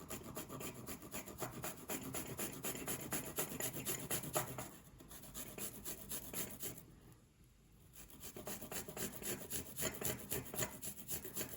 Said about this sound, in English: Grate your garlic.